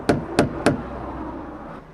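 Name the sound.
knocking on a door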